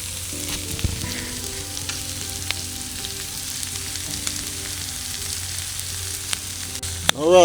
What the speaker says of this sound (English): we got a little bit of onions going here and some sweet peppers